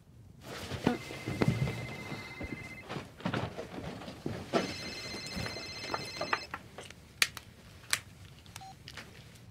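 A phone gives off a series of electronic tones and beeps, with steady pitched notes and short chirps over faint rustling background.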